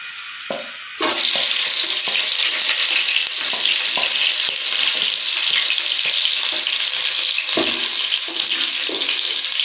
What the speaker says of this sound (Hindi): तो अभी हम इसमें लहसुन डाल देते हैं।